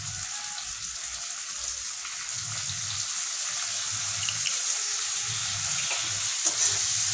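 Chilli paneer with soy sauce frying and being stirred in a pan, giving a loud, continuous sizzle with scraping and tossing sounds throughout.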